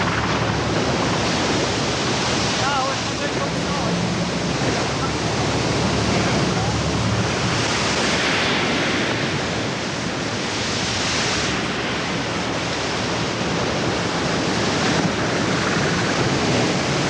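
Loud, continuous roar of sea waves and surf at the Salcombe bar with gusting wind buffeting the microphone, steady throughout with no clear breaks.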